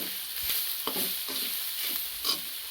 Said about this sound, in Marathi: त्याला आपण छानसं असं परतून घेऊ आता दोन मिनटं